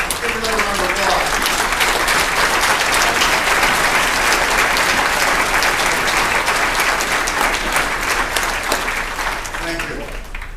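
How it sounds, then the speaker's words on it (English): An indoor audience at a hometown ceremony honoring veterans and a major general in Spencer, Iowa gives loud, sustained applause throughout, with voices faintly audible at the start and end. "Give another round of applause."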